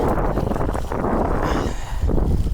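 Strong wind buffeting an outdoor spot, a loud, continuous roar with gusty surges and a brief dip midway, no voices.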